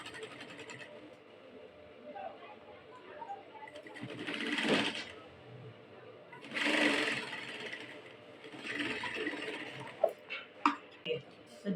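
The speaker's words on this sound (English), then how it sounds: "I'll be sewing straight and then go into the main fabric." A sewing machine stitches a tulip sleeve seam in short bursts of rapid whirring, fairly close, between pauses, with someone speaking softly in between.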